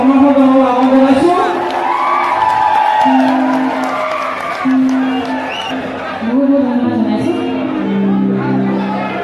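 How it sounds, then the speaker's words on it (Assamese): A live-show audience at the Asom Sahitya Sabha closing event in Narayanpur cheers, whoops and applauds for Zublee Boruah, a steady loud crowd roar with shouting voices rising over it throughout. "জুবলি তেখেতৰ কাৰণে এটা উষ্ম হাত চাপৰি তেখেতৰ সমৰ্থন জনাব আহ্বান জনাইছো।"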